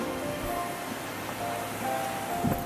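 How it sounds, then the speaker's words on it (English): Pouring rain heard from a car descending the road into Honomanu Bay, a steady dense hiss of drops drumming on the vehicle with a low road rumble underneath and no talking. "So it's pouring rain."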